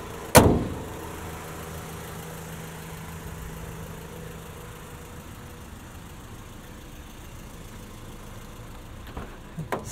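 A stock 1999 Honda Civic Si with its 1.6-liter VTEC inline four idles steadily as a low, even hum, opened by a sharp thump like a door closing and a brief clunk near the end.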